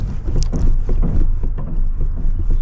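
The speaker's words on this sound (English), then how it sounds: "I can hear the Skeg moving." Loose skeg on an NDK Romany Surf sea kayak knocks softly in its box during paddling, repeated irregular dull clunks amid steady water wash and wind rumble.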